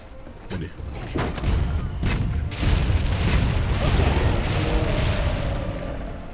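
Cannons fire in a video game, a series of deep booming blasts that roll into a sustained rumble of heavy fire, loud and close.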